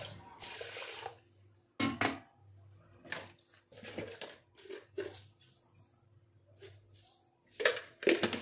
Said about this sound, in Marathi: नंतर तांदूळामध्ये पाणी ओतून ते धुवून काढणार आहे